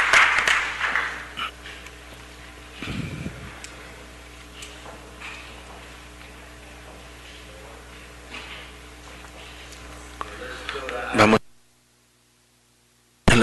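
Applause from a city council meeting audience honoring council members, a steady patter of clapping through most of the clip that cuts off abruptly near the end.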